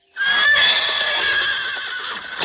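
Cartoon horse neighing, a single loud, close whinny held for about two seconds and fading slightly at the end.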